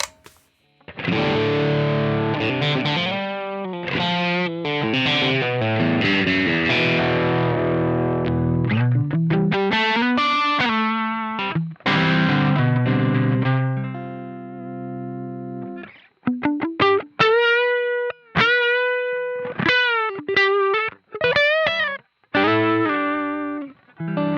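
An electric guitar with crunchy Marshall-style distortion, played through a Two Notes ReVolt amp simulator with all controls at noon, rings out loud chords and single-note phrases with sustained notes and short pauses between them.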